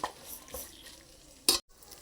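Tomatoes frying slowly in a pan for veg biryani, a soft steady sizzle with a few stirring scrapes and one louder clatter before a brief drop-out, heard alone.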